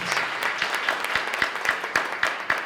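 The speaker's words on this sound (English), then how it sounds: "Give her a round of applause, please." Applause from an audience at an NAACP community gathering in Newark, a steady patter of clapping with sharper individual claps standing out, moderately loud and unaccompanied by speech.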